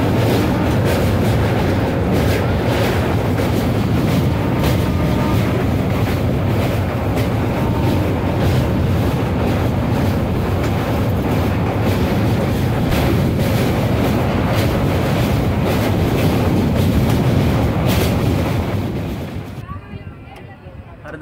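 Khajuraho–Kanpur passenger train running near Hamirpur Road, with a steady loud rumble and rattle of wheels on the rails that carries on throughout, then drops away abruptly near the end.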